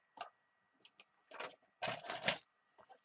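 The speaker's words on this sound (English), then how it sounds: "I think I'm going to use my trimmer for this one." Paper trimmer slicing paper for a journal pocket, a few short close scraping and clicking strokes separated by quiet gaps, with a longer cutting pass near the end.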